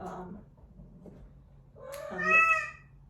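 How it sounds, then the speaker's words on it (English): A deaf cat meows loudly in a long, drawn-out cry with clear rising harmonics, following a quieter stretch of low indoor room noise and faint earlier vocal sounds. "I have a cat that's deaf, and he meows very loud"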